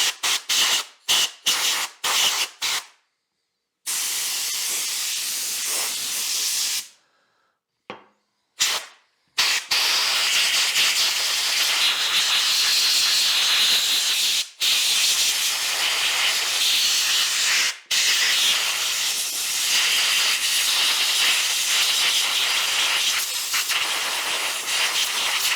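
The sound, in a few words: compressed air blast cleaning DeWalt impact driver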